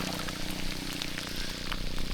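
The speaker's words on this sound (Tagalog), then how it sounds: "Naulan na naman." Steady rain before a typhoon in the Philippines patters at a fishing spot, making a dense, even hiss of drops at a constant moderate loudness with no voices.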